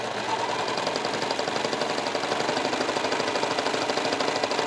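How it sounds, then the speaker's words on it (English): A four-thread overlock sewing machine stitching fabric with contrasting threads, giving a steady, fast mechanical whirring hum with a dense rhythmic clatter that runs evenly and close throughout. "I have this set up for a 4-thread overlock stitch"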